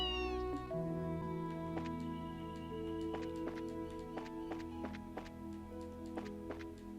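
Several cats meow in the video game Trails in the Sky SC, short repeated mews sounding over steady background game music, with no talk.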